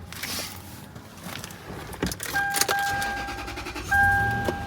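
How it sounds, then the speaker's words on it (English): A 2004 Lexus GX470 V8 SUV with 137k miles starts cold and settles into idle, with a low engine rumble under steady electronic chime tones; no clear ticking stands out. "See, a little bit of a cold start tick, but goes away very quickly."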